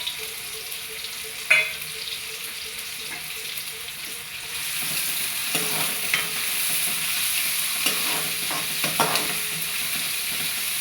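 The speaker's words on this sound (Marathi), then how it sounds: "कांदा हा गुलाबी रंग येईपर्यंत चांगला परतून घ्यायचा आहे." Onion sautéing in a pan with mustard seeds for phodnichi poli, a continuous sizzle that grows fuller midway, with intermittent scraping and stirring strokes close by.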